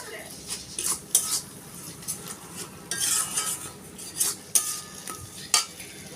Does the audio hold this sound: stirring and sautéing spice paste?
yes